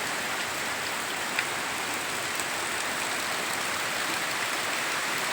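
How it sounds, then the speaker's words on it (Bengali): Heavy rain pours down in a dense, unbroken hiss in Hariarpur village, Bhangar, South 24 Parganas, India, during a low-pressure storm, with occasional louder drops standing out close by. "প্রচুর বৃষ্টি"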